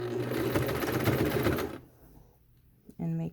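A sewing machine runs in a fast steady rattle while stitching a fabric face mask, then stops abruptly; a voice speaks briefly at the end.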